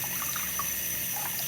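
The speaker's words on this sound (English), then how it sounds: "Let me rinse these first." Tap water runs steadily over kale leaves being rinsed in a kitchen, a continuous close hissing splash with no talking.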